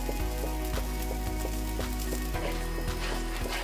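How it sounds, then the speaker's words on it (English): An arrowroot and coconut milk mixture is stirred into a sizzling sauce in a pan, with a spoon scraping in a steady rhythm over a continuous close frying hiss. Nobody speaks. "Just going to add some in, and then you want to stir right away because it thickens up"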